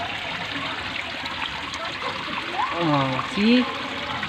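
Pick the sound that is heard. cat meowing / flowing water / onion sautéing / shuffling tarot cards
flowing water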